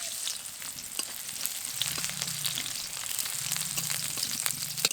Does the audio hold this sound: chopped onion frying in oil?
yes